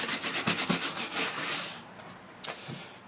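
A brush sweeps sawdust off a carved wooden sign in quick rhythmic strokes, about eight soft scratchy passes, then a pause and two more brief brushes, all close and alone.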